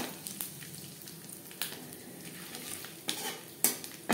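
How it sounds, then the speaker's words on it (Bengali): A bay leaf and panch phoron spices fry in oil left from frying hilsa fish, with a steady low sizzle and occasional metal utensil clinks and scrapes against the pan, louder toward the end; no speech. "দশ 15 সেকেন্ড পাঁচফোড়ন তেজপাতা ভেজে নেওয়ার পর"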